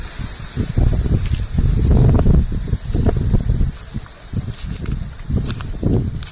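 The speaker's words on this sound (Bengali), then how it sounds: "প্রচণ্ড জোরে হাওয়া বইছে" Strong wind gusts buffeting the microphone outdoors on a Sundarbans riverbank during a high spring tide fishing trip, a loud, rough low rumble that swells and eases in waves throughout, with rustling and no talk.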